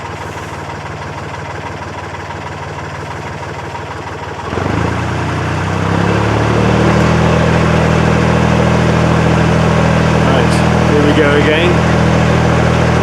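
A narrowboat diesel engine idles steadily near Braunston Tunnel, its low throbbing hum shifting and thickening partway through as the revs change, with a voice speaking briefly over it.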